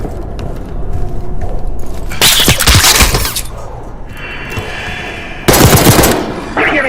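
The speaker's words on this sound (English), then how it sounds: "Hearing gunfire?" Machine gun fire in the Call of Duty: Black Ops 6 campaign: loud bursts of rapid automatic shots crackle in two main volleys over a rumbling game background with lighter pops between them.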